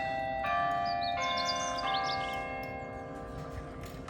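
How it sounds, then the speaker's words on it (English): A clock chimes outdoors at Hopton Hall in Derbyshire: several sustained, ringing bell tones strike in succession and overlap as they decay, with birds chirping faintly in the background. "Oh, just let you listen to that clock chiming."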